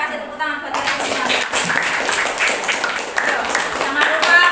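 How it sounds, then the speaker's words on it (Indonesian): A school class claps hands in a chemistry lesson, a dense burst of close clapping that carries on steadily for several seconds. "yang kasih tepuk tangan buat kalian semua."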